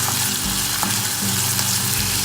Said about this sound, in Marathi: आता हे परतून घ्यायचं, त्याचा कच्चा वास जायला पाहिजे तोपर्यंत परतून घ्यायचं।